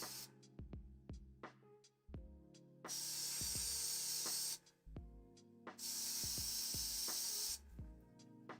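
An airbrush sprays a layer of red paint onto a Be'lakor hobby miniature in two long, steady hissing bursts. Between the bursts come short puffs and small handling clicks close to the mic.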